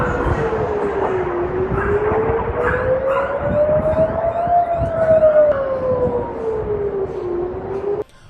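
An air raid siren wailing in Israel, a loud rising and falling tone sweeping slowly up and down over about eight seconds, with distant background noise beneath it.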